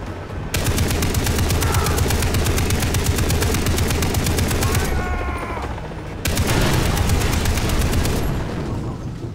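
Rapid machine-gun fire in Far Cry 3 shooting down a target, two long loud bursts of fast evenly spaced shots separated by a brief pause, close and dominant with no talk.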